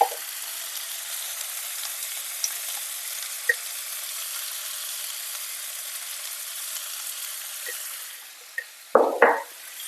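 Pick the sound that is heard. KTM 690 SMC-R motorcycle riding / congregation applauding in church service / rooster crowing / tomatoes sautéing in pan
tomatoes sautéing in pan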